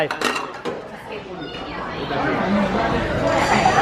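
Sushi plates dropped into the return slot of a conveyor-belt sushi restaurant, a few sharp clinks and clatters near the start, followed by busy restaurant chatter and voices.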